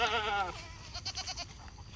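Goats in a pen bleat, one loud wavering bleat close by at the start followed by quieter rustling and shuffling of the herd.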